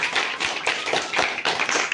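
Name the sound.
audience clapping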